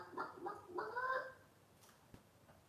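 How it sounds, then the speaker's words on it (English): A children's sound button toy plays a chicken-like clucking call in a few quick bursts, fairly close and moderate in volume, then fading to quiet room tone with a faint click. "Oh, chickens."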